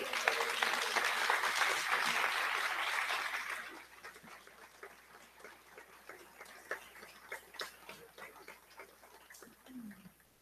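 Loud, dense applause from a church congregation for a few seconds, then it fades into scattered claps and light clicks.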